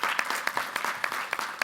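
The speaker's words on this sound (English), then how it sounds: "I'd just like to give a wee quick round of applause for Rich Ensor" Brief burst of applause from a small audience at a basketball event announcement in Belfast, uneven claps with sharp peaks, fairly close and moderate in level, no talk over it.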